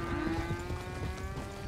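Cows lowing in the video game Red Dead Redemption 2, a brief faint drawn-out moo with a soft low hum beneath.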